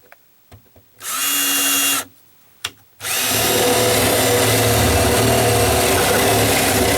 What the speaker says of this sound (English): So I got my battery operated drill.